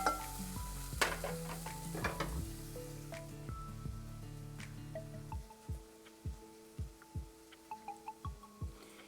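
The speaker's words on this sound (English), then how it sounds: "let's give these vegetables a nice little stir now" Onions and scallions sautéing in a pan for red beans and chorizo dirty rice, stirred with a run of rhythmic scraping strokes over a soft sizzle, close and fairly loud, with a tonal ringing early on.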